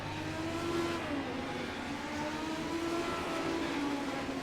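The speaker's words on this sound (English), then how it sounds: "And the pace car is rolling." A pace car's engine hums steadily as it rolls around an oval race track, a continuous mid-distance drone with faint shifts in pitch and no voices over it.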